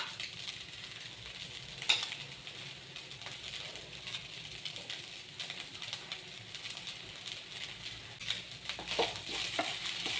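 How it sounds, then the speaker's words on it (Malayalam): Poha upma being turned over in a pan, soft scraping and occasional metallic taps of a spoon over a faint low sizzle, close and quiet, with no voices. "ഇനി നമുക്കൊന്നുകൂടെ ഒന്ന് ഇളക്കിയെടുക്കാം"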